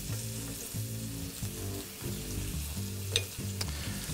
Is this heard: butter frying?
yes